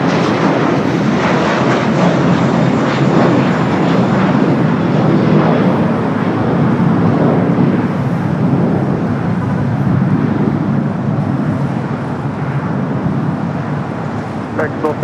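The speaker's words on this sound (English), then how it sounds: "Also just had a United Dreamliner just touching down here on the south" United Boeing Dreamliner airliner touching down at LAX, a broad steady roar of jet engines and rushing air that holds loud for the whole stretch, with talk over it.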